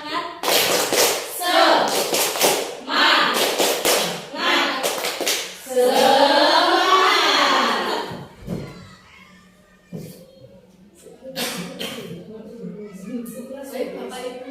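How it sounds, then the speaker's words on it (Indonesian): A group of people doing a rhythmic spirit clap together in a meeting, bursts of claps in a patterned beat, loud and close, with chanting voices mixed in and talk afterward. "Ini Bu ya, tepuk semangat dulu."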